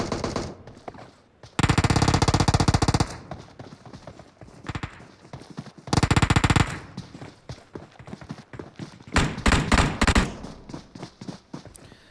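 Rapid bursts of automatic gunfire from PUBG Mobile crack out in several loud volleys, with single shots and quieter stretches between them.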